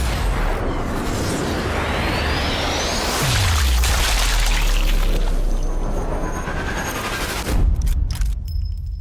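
Sniper rifle headshot in Sniper Elite 4, a loud booming shot with a deep, long rumbling decay, followed later by another burst of noisy impacts.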